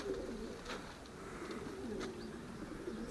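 Racing pigeons coo softly in low, rolling repeated calls over a steady background hiss, with a few faint higher chirps.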